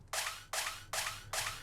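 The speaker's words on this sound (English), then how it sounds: "So I got this impact sound that goes like this." A music production impact sound effect for a Kpop-style trap pop beat hits four times at an even pace, each a bright, noisy, sustained burst, quiet overall and with no voice over it.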